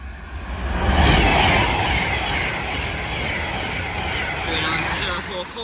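The Royal Scot train passes through Lichfield Trent Valley station with a loud rushing roar and rumble of wheels on rails, building then holding steady, while voices talk over it.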